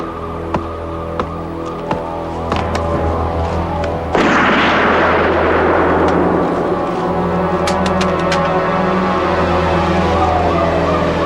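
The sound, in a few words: gunshots in a TV crime drama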